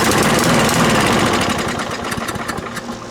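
A junky old lawn mower with a caked-up deck runs its engine close and loud, a continuous rough, throbbing roar that turns slightly choppier and pulsing toward the end.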